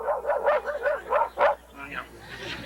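A human voice mimics a dog, letting out a quick series of yappy barks followed by a softer whine.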